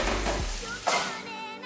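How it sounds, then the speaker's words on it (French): Olive oil heats in a pan with a steady, close hiss of sizzling, and a brief clatter comes just before the one-second mark. "Faites chauffer votre huile d'olive."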